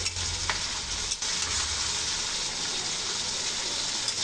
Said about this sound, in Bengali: মাংস কষাই হয়ে গিয়েছে তেল ফুটে এসেছে